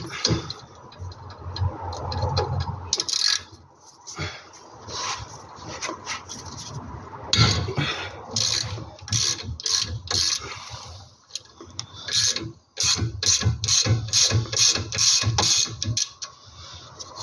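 A wrench works a nut loose on a Nissan 350Z brake hose fitting, giving a rapid, irregular run of sharp metallic clicks and ratcheting taps close to the microphone.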